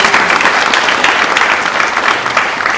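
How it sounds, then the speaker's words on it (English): A live conference audience claps together for a tech demo: dense, steady applause at close range that holds at an even level throughout with no letup. "Got to give a round of applause for a live demo here."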